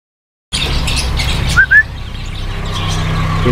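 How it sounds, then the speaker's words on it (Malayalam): Birds chirp in a pet shop that also keeps pigeons, with a couple of sharp close tweets standing out over a low background hum. "ഇവിടെ ഇത് പല വെറൈറ്റി പ്രാവുകളുണ്ട്."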